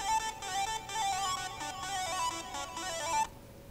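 A remix melody made with MIDI plays in bright, synth-like notes, a busy repeating phrase that stops abruptly near the end and leaves silence.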